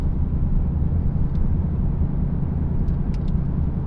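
A Cadillac pulls away from a car meet, its engine a steady, broad rumble with constant road and crowd noise, brief faint higher clicks near the end and no talking.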